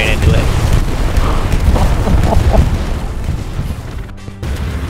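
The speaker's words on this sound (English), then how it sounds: "Oh, bomber run coming in. That's an enemy bombing run." Enemy bombing run in the WWII shooter Hell Let Loose, with loud continuous rumbling blasts and crashing explosions close by, buffeted by wind-like roar, ending with a brief dip before the din resumes.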